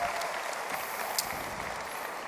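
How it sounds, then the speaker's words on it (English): Applause from the audience at the OnePlus 6 India launch event, a steady, fairly quiet wash of clapping that fills the whole stretch without a break. "give yourself a round of applause for being here"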